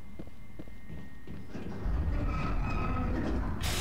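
A tram in the video game Mass Effect rumbles along, a low steady rolling noise that swells louder midway and carries on with faint clunks.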